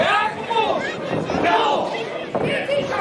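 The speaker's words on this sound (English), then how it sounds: "As the crowd seems to be taunting the GGC." Wrestling event crowd taunting a heel faction, a loud arena full of fans shouting and chanting in rising waves that swell and fade throughout.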